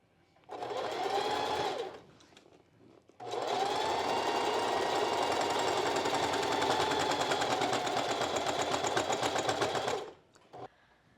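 A sewing machine zigzag-stitches along the top edge of a strapless bra, a short burst followed by a longer steady run of rapid, close mechanical clatter that stops cleanly.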